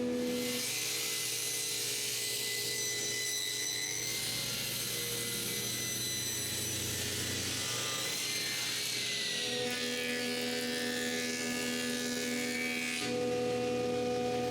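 A power tool surfacing a cherry wood board, a loud, continuous close grinding whine that shifts in pitch and texture as the cut changes, with no pauses and no talk.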